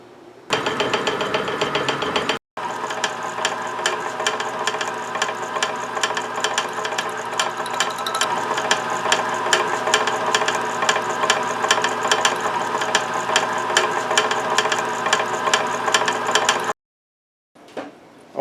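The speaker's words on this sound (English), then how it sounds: "And now we're going to mill that slot." An Atlas horizontal mill with a 1/8 inch end mill cuts a slot in a bushing, a loud continuous mechanical whir and rattle running for about fifteen seconds with a brief break early on before it stops.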